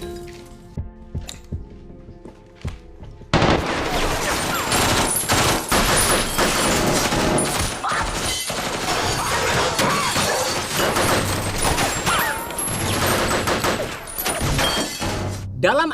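Sudden burst of heavy gunfire in an action-film shootout with armed cartel attackers, rapid overlapping shots and crashing impacts, loud and dense, continuing without a break after a quieter opening with a few sharp hits.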